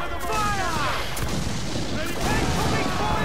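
Ship cannons firing in a naval battle in Assassin's Creed IV Black Flag, several heavy booms and crashing impacts over rolling rumble and sea wash, loud and close, with game voices shouting over it.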